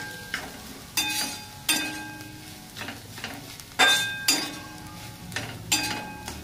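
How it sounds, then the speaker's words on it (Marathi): Brinjal masala for vangi bhaji is stirred in a pan over a low flame, with regular bursts of spoon scraping and clinking against metal over a faint sizzle and no talk. "मस्त असं हलवून घेऊ मस्त बारीक गॅसवर"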